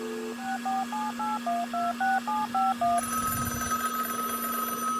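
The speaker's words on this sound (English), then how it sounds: "Oh, well, it's ringing again." A telephone call placed over a hacked satellite link starts with a quick run of keypad dialing tones, followed by a steady ringing tone on the line.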